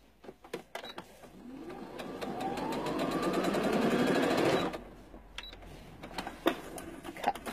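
A sewing machine stitching fabric pieces together, a close steady mechanical whir that builds for a couple of seconds and then stops, framed by handling clicks and taps before and after.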